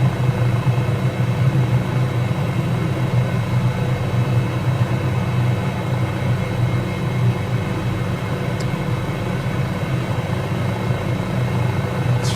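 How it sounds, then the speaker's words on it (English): An MD500E helicopter in Microsoft Flight Simulator drones steadily, a loud constant low rotor and turbine hum with an even whine above it, running unbroken and alone without any voices. "Great fun, this helicopter."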